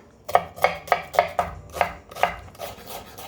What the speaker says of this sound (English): Chop the garlic. Chop the onion.